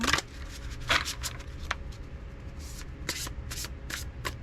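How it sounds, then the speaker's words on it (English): A deck of cards is shuffled up close, with repeated soft riffling bursts and short papery flutters in an uneven rhythm, and no talk over it. "Let me shuffle this one up real quickly too."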